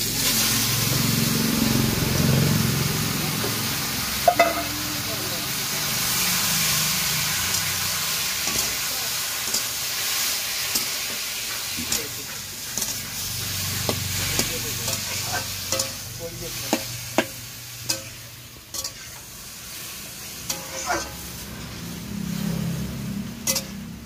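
Tomato hits hot oil tempered with five-spice in a home kitchen, setting off a steady hiss and sizzle that continues throughout, punctuated by repeated clinks and scrapes of a spoon stirring against the pan.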